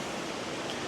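A waterfall cascade at Lake Mohegan, heard as a steady broadband rush of falling water, faint and continuous with no other sounds.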